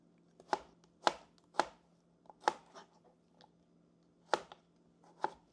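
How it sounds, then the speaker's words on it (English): A knife cuts cooked shrimp pieces on a cutting board, six or seven crisp, separate chops at uneven intervals, close and clear over a low steady hum. "Cut these shrimp pieces into half. Cut off the tip."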